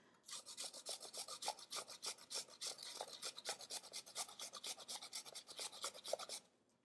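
Fresh ginger grated on a non-stick stainless steel grater, a close, fast run of rhythmic rasping strokes lasting several seconds before stopping, with no speech.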